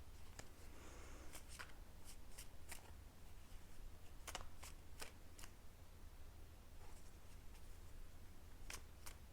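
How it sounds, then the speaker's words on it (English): Tarot cards being drawn and handled from a deck, soft scattered card slaps and flicks over a low steady background hum, fairly quiet with no voices. "Let's get a couple cards from month 1."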